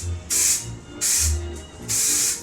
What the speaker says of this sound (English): now I'm going to take the hairspray and spray it in my roots